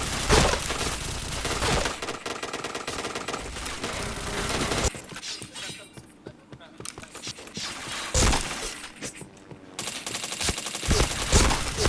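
Gunfire in a team-based shooter video game, with dense bursts of rapid shots that break off into a quieter stretch and then resume, loud and close, while a voice speaks over parts of it.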